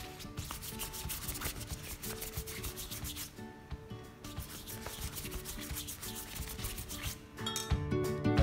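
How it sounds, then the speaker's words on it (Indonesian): Cooking oil brushed onto banana leaves for wrapping kue bugis: continuous soft rubbing and scraping strokes with occasional light clinks of a utensil, close and steady, with no talking. "Daunnya juga dioles dengan minyak goreng."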